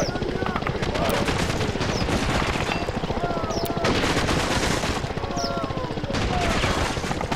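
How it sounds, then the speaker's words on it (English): Rapid continuous weapon fire in the Call of Duty WW3 mod, a dense, loud stream of shots running steadily without pause, with a voice speaking over it. "Equip the grenade launcher. Fire at the wall with the number Roger one."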